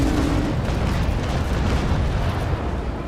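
A ship's cannon broadside in the naval video game Naval Action, a heavy continuous roar of booming fire that fills the whole span at high loudness and trails off slightly at the end.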